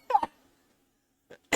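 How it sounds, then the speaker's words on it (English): A person coughing in short, harsh bursts: two quick coughs up front, a pause of silence, then a softer cough and a final loud one, close and alone without talk. "I'll get it out of me once I stop coughing."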